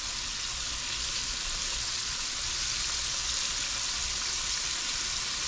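Snapper fish nuggets dry frying in a hot pan, a steady close crackling sizzle that holds evenly throughout with no pauses.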